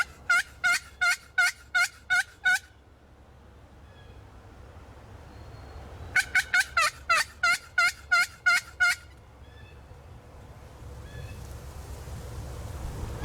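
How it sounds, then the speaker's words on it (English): Two bursts of rapid, rattling wild turkey gobbles, each a quick series of pulses, heard in a windy field in Indiana on the opening day of turkey season, over a low wind-like rumble with quiet gaps between them. "We heard a bunch of gobbles behind us in this north field."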